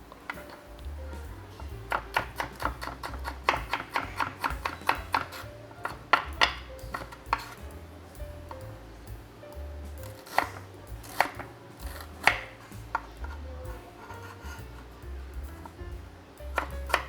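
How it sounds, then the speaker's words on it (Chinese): Rapid knife strikes chopping an onion on a cutting board, crisp clustered taps in quick bursts with short pauses, close and clear, the kind of onion prep that goes with a Ngoh Hiong five-spice meat roll. "这个洋葱我也是切给你们看"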